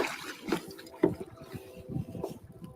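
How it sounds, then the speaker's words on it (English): A caught fish thrashes in water, producing a string of irregular close splashes and sloshes of moderate loudness, heard through a GoPro-style camera with no talk. "when you can hear it splashing on a GoPro, you know it's probably a decent fish"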